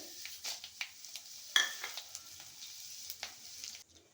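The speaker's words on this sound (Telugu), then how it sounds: "ఉసిరికాయలు వేయించుకున్నాక అదే ఉన్న ఆయిల్లో మనము పోపు వేసుకుందామండి ఆవాలు జీలకర్ర" Mustard seeds and cumin tempering in hot oil left from frying gooseberries for pickle, giving a close, steady sizzle with scattered crackles and pops, alone with no talk, stopping near the end.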